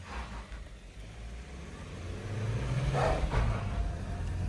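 Mahindra Scorpio S11 and Thar Roxx accelerating side by side in a drag race, a steady engine rumble that builds and swells toward the end, moderately close with no talk over it.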